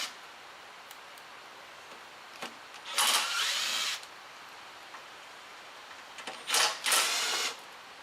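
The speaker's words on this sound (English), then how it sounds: "Connect up the electric, you can take these screws off in the front." Screws being removed from the front panel of a water treatment system unit with a power driver, in two short whirring bursts a few seconds apart, close by, with quiet room noise between them.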